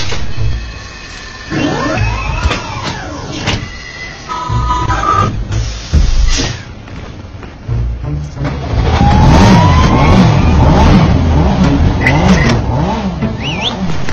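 A car engine revs up and down in a series of rising and falling surges. The roar builds to a louder, sustained stretch in the second half, mixed with other traffic-like noise.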